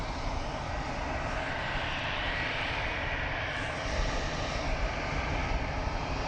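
An EasyJet airliner takes off from Southend Airport on the first flight to Paris, a loud, continuous jet roar that fills the whole stretch without voices.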